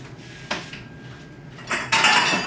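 Dishes and cutlery clink and clatter as cannellini beans with beef from a crock pot are served into a soup plate, with a few sharp knocks and a louder scrape of crockery near the end.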